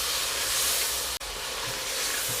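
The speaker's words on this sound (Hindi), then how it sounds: "तकरीबन 1 मिनट के लिए इसे मज़ीद फ्राई कर लेते हैं।" Cauliflower and meat curry with turmeric and garlic-ginger paste frying in a pot, a steady broadband sizzle and hiss held close and loud throughout, broken by one brief dropout midway.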